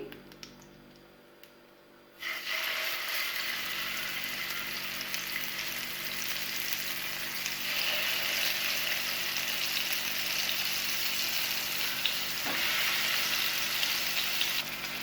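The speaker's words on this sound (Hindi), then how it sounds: "अब मैं अपने बाकी के कबाब्स को भी इसी तरह से फ्राई कर लूँगी।" Chicken malai seekh kebabs fry in a pan, a steady, close sizzle with faint crackles that sets in after a couple of quiet seconds and carries on without talk.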